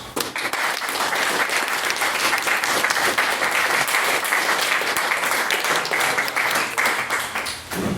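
A debate audience applauds after a speech, many hands clapping in a dense, loud, continuous roar that holds steady and thins slightly at the very end.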